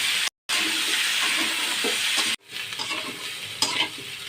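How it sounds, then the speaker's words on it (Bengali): Potatoes and kohlrabi sizzle steadily in hot mustard oil, a dense close frying hiss broken by a short silent gap near the start and a sharp cut midway, with faint stirring scrapes and no voices. "এখন আমি দিয়ে দেব আলু এবং ওলকপি দিয়ে আমি ভেজে নেব"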